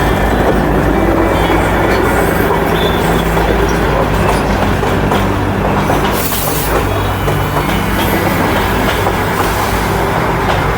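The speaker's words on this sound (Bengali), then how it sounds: "এখান থেকেই শুরু হয় মায়াবী টয় ট্রেন সফর" The Darjeeling toy train runs close by with a loud, continuous rumble of wheels and carriages, rhythmic clickety-clack and brief squeals of wheels on rail, without any talking.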